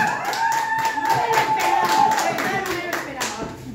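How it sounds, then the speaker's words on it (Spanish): Steady applause from a crowd at a birthday celebration with a mariachi band, dense clapping throughout with a sustained tone and some voices mixed underneath. "Ese aplauso fuerte que se sienta"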